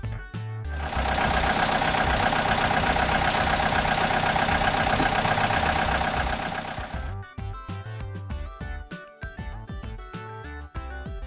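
Excavator engine, a dense loud rumbling mechanical roar that holds steady for about six seconds before giving way to background music.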